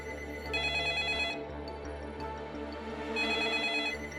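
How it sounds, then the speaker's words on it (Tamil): A telephone rings repeatedly and goes unanswered, its bright electronic trill sounding in regular bursts over a low steady background hum, with no voices. "என்ன இவ்வளோ ரிங் போகுது, ஃபோன் எடுக்கவே இல்லை?"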